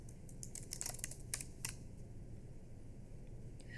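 Commands typed on a computer keyboard, with a quick cluster of light key clicks early on, faint over a steady low hum, then quiet.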